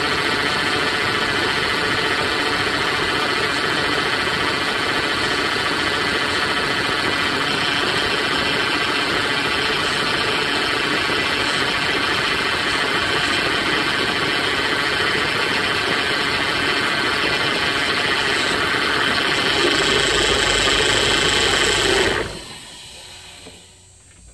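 A Dodge Ram 1500 idles steadily while its steering wheel is turned from side to side, the engine drone loud and continuous with a faint ratcheting edge before cutting off abruptly near the end.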